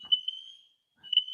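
A fire alarm sounds as two sustained high electronic tones separated by a brief gap, clear and moderately loud with no other sounds around it.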